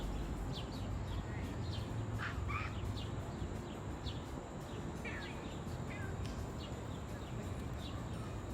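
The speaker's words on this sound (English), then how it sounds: "Birds are chirping." Faint bird chirps ring out intermittently over steady, loud city background noise near Pritzker Pavilion in downtown Chicago, a few short calls scattered throughout.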